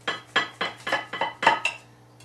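A knife cuts through a slice of tomato basil tart, giving about seven crisp, evenly spaced clinks and scrapes against the dish, close and clear, followed by quiet.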